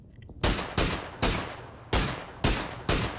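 Six sharp, loud gunshots fire in an irregular rhythm of single and paired cracks, each with a short decaying tail, as a tire is shot out of a vehicle in PUBG on the winter battle royale map.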